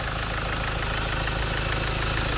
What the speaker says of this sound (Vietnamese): Máy nổ khá là êm.